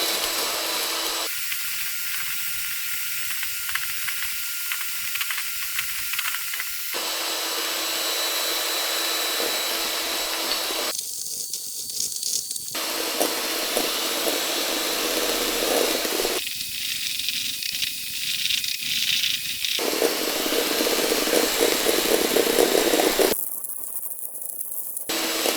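Electric hand mixer whipping egg whites to stiff peaks for fluffy Japanese pancakes, a steady loud high whir running continuously with shifts in tone as sugar is added, no talking.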